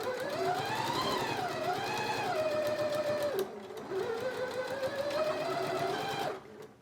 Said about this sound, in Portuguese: E agora eu vou costurar, sempre retrocesso no início e no final.